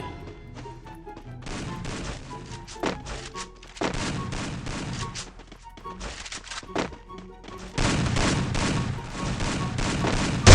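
Gunfire and thudding impacts in the Free Fire mobile battle royale game, a loud busy mix of repeated shots and bangs that swells in bursts toward the end.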